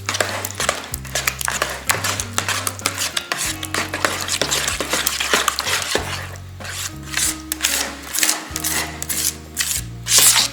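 Spoon stirring a sour cream mixture in a dish, with steady rhythmic scraping and clinking strokes close up, continuous throughout with a few brief pauses.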